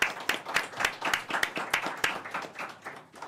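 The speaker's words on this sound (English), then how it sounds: "So applause for Starapps." Applause from a conference audience at the Qubes OS Summit 2024, a short burst of steady clapping that stays moderately loud and then tapers off.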